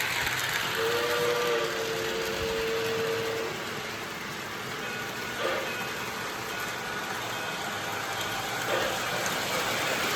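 TMCC Berkshire model steam locomotive starting up on a home layout track, with a sustained two-tone whistle blast early on, then a steady hum and rumble of the running train at moderate distance, no talking.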